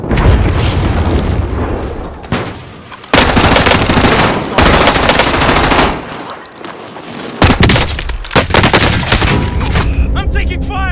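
Automatic gunfire and explosions in Call of Duty Warzone, loud bursts of rapid shots and booms in several long volleys separated by brief gaps, with in-game voice callouts heard among them.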